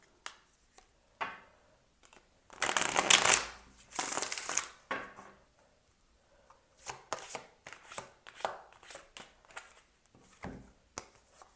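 A tarot deck gets shuffled in a few brisk riffling bursts near the listener, followed by lighter taps and card handling with short pauses between them.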